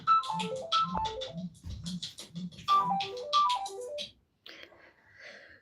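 A phone ringtone plays a repeating descending melodic phrase over a rhythmic beat, fairly faint, cycling twice before cutting off and being followed by softer trailing sounds.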